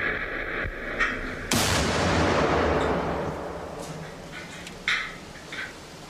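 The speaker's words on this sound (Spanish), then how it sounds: "sometido a la fuerte detonación de una explosión de bomba colocada en un vehículo adyacente." A sudden loud car bomb blast erupts and rumbles away slowly, preceded by a short thud and followed by a few sharp cracks as debris settles.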